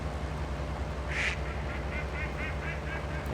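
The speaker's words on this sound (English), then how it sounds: "there's a group of wild ducks here" Wild ducks quack in the hunting game Way of the Hunter over a steady low outdoor rumble, one louder call followed by a string of fainter, more distant quacks.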